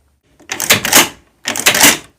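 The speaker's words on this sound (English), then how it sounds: "One of the most important features of this Stoeger is its inertia-driven bolt system." Stoeger M3500 semi-auto shotgun's inertia-driven bolt cycled twice, each a loud, close metallic rack-and-slam lasting about half a second, separated by a short pause.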